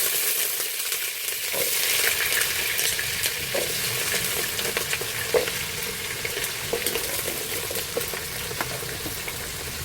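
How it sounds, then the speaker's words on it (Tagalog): Potatoes and carrots fry in oil for a Filipino beef caldereta, a steady close sizzle with occasional stirring clinks and pops throughout, no voices. "Umpisahan natin sa patatas at carrot, ipiprito ko muna to."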